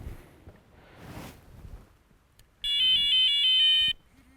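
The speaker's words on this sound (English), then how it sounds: "obviously the receiver is vibrating, and then you've got a blue LED as well" A Sonik VaderX carp-fishing bite alarm receiver, switched to its vibrate setting, gives a loud, close buzzing alert in rapid even pulses for just over a second, after quiet handling noise.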